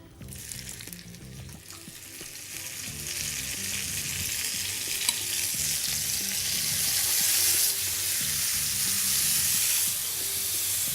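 Lamb chops fry in olive oil in a pan with a steady, loud sizzle and crackle, with soft stirring and scraping underneath. The hiss holds for the whole stretch and builds slightly toward the end.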